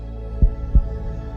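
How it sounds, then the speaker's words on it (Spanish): Two deep, muffled heartbeat thumps land about a third of a second apart over a low steady hum, close and prominent with nothing else heard. "Siente en él los latidos de tu corazón."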